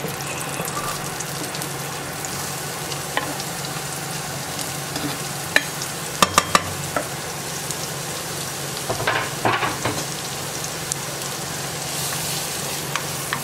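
Onions and garlic fry in a pan for risotto, a steady close sizzle and crackle throughout, with occasional stirring clicks and spatters.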